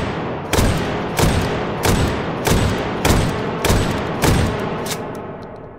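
An AA-24 automatic shotgun fires shells in the VR game H3VR, with about eight loud, evenly spaced blasts at a steady rhythm, close and with no talk.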